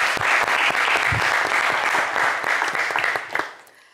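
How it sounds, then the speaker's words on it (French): Studio audience applause for a contestant on a French television game show, a dense burst of clapping that fills the clip before tapering off near the end. "Bravo Aurel, on peut vous applaudir"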